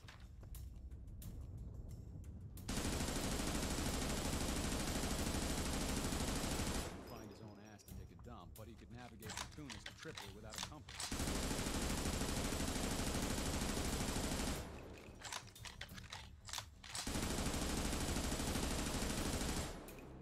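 MG42 machine gun with a very high rate of fire in the World War 2 shooter game Raid, firing in long dense bursts of several seconds each, separated by short pauses where other game sounds continue.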